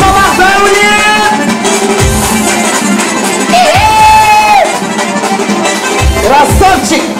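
Wedding party crowd cheering, whooping and shouting loudly and continuously over busy music, with voices yelling throughout.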